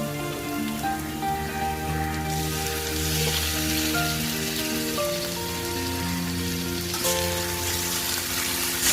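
Chopped tomatoes added to ginger garlic paste fry in a pan with a steady, dense sizzle like rain, continuous and fairly loud, with faint background tones.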